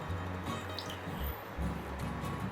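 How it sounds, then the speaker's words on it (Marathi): Ghee is added to finger millet (nachni) dough, making soft, wet, squelching drips and small plops in irregular bursts. The sound is close and fairly quiet, with no speech over it. "त्याच्यासाठी आपण थोडं तूप घालूया याच्यामध्ये"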